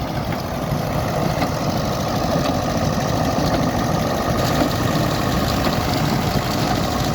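A Fordson E27N tractor engine idles steadily and loudly close by, a continuous low rumbling chug with no talk over it.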